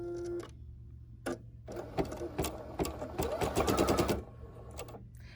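An embroidery sewing machine stitches a placement line for a cupcake pincushion, producing quiet, close, rapid rhythmic clatter in bursts over a low steady hum.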